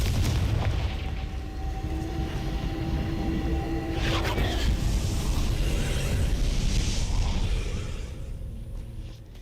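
A loud, sustained rumbling blast from the Confringo spell in Hogwarts Legacy breaks apart weathered rocks. The booming continues for several seconds and then trails off.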